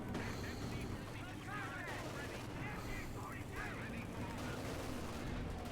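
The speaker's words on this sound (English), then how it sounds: "And Sturmpanzer firing here at the lieutenant." Sturmpanzer artillery shots in Company of Heroes 2 amid a busy battlefield, with gunfire and explosions rumbling continuously under a commentator's voice.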